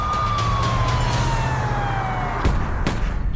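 Police and ambulance sirens wail with a slowly falling tone over a steady low engine rumble, fairly loud and near, with a couple of sharp knocks.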